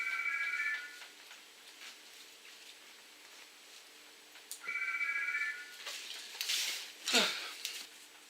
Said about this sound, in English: the telephone is ringing and ringing and ringing